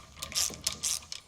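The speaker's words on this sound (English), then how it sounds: "we'll be using a 7/32 hex on top and a 9/16 wrench on the bottom, so we can go ahead and get these tightened down" A 9/16 wrench ratchets on nuts while tightening the bolts of a B and W Patriot fifth wheel trailer hitch mount in a 2020 GMC Sierra 2500 bed, several quick close clicking strokes in a short burst, no talking.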